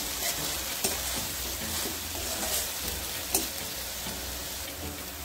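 A browned fried mixture with medium-sized tomato paste is stirred in a hot pan, a steady hiss of frying under occasional clinks and scrapes of the utensil, close and moderately loud.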